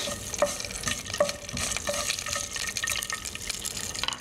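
Steady sizzling of an Indian dish base frying in a pan, with occasional stirring clinks and scrapes throughout.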